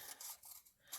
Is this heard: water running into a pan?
no